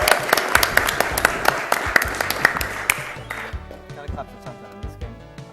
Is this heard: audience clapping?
yes